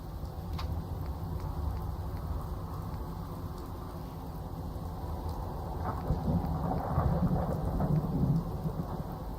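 Steady downpour and rolling thunder in the video game Fallout 4, an even rain hiss throughout with a swelling low rumble in the latter half, no voices present.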